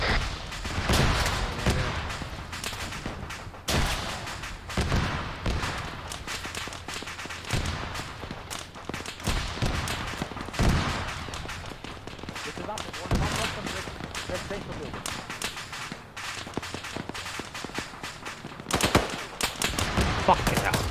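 Grenade blast and gunfire in the military video game Arma 3, with bursts of automatic fire and sharp shots that keep recurring over about twenty seconds, mixed with voices talking.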